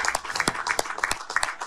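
Audience clapping in a televised political segment, sparse, uneven claps from a studio crowd, fairly close, with bits of voice mixed in.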